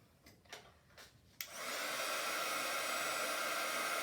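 A handheld heat tool switches on after a few soft clicks and then blows in a loud, steady, close whoosh while heating shrink plastic pieces for a floral hair pin.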